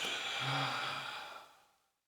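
A long, deep exhale during a guided whole-body breathing exercise, close and fairly loud, a breathy sigh that fades out over about two seconds with no talking.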